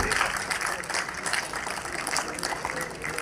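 Steady applause from an audience at a special children's program, a dense wash of many hands clapping that continues evenly throughout.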